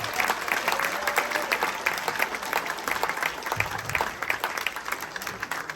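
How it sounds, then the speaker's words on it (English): A live audience at a carnival event bursts into a nice big round of applause, dense steady clapping close by that carries on unbroken throughout. "give everybody a Carnival a nice big round of applause."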